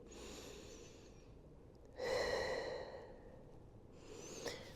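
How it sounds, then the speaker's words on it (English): A person breathes deeply while holding a thread-the-needle Pilates stretch on a mat, with a soft audible exhale-like gust midway and quiet breathing before and after, close and faint. "Take a moment here to breathe."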